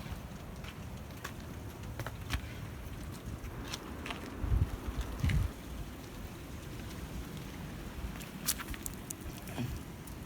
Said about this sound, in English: it's snow falling with Graupel